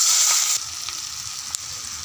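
Fenugreek, cumin and onion tempering frying in hot oil for a murrel fish curry, a loud bright sizzle that drops sharply as the onions go in, followed by softer crackling and a brief clink.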